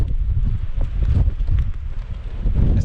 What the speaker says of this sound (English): It's very windy and blowy and bleh.